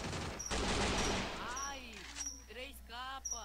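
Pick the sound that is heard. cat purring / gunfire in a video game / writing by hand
gunfire in a video game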